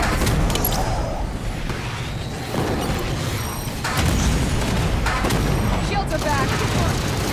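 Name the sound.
hostile gunfire and explosions in the video game Halo 5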